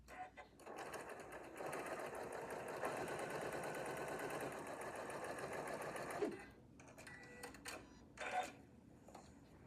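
A sewing machine stitches quilt fabric in a fast, steady whirring run for several seconds, then stops, leaving a few short clicks and handling sounds.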